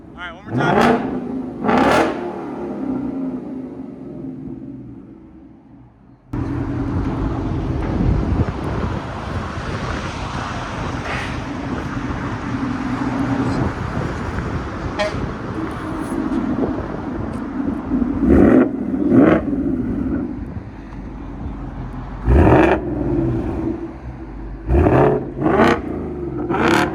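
A 2024 Ford Mustang GT 5.0L V8 fitted with a Borla ATAK cat-back exhaust gives sharp revs, then a long loud roaring pull with wind rush, followed by more revs, with a voice talking at times.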